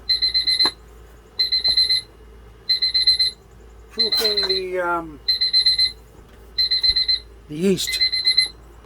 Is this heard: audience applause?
no